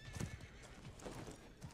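Faint hoofbeats clop along with a horse's whinny in the game Mordhau, distant and soft beneath low background noise.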